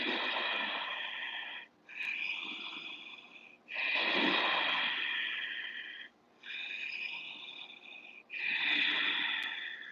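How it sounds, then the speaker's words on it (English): Ujjayi breathing during a yoga flow with cactus arms: slow, audible throat-constricted inhales and exhales come in close, even waves, roughly five breaths, soft and hushed with no talking. "we'll use our ujjayi breath to help us"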